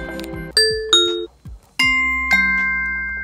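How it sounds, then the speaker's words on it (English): An Amazon Echo Show 5 plays a Ring doorbell chime, a few clear bell-like tones that ring on and fade, then a second chime pattern follows. "you've got a choice of sounds that the Echo will play when someone's at the front door"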